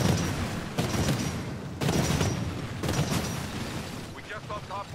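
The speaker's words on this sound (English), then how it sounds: "I narrowly avoid death by 40mm cannon" 40mm cannon fire in the video game Titanfall, several heavy booming blasts in quick succession, each with a broad noisy burst, loud and close, with chatter and electronic tones at the end.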